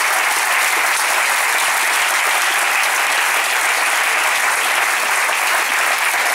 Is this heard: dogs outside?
no